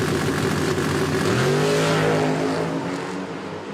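A low-slung Chevrolet Nova race car roars toward the finish line, its engine note climbing steadily as it accelerates, loud and close, then easing slightly at the end.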